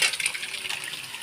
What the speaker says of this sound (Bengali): এখন আমি তরকার ডালটা ঢেলে দেবো